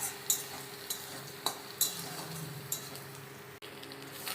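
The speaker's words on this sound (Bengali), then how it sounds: "এবার ভুজি ভুজি করে নিচ্ছি, ভালো করে ভাজা করব" Fish roe stir-fried in a pan with onion, potato and garlic, a low steady sizzle broken by several sharp scrapes and clinks of a spatula against the pan.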